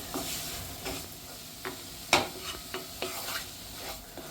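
Besan (gram flour) being roasted in ghee while stirred steadily for besan ladu, with soft scraping strokes and a low sizzle, plus a sharper clack near the middle as the spoon strikes the pan.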